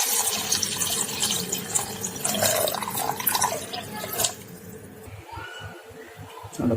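Thin second coconut milk poured into an Angamaly-style mango curry makes a wet, splashing pour with drips and sloshing, close up, tapering off near the end with no talking.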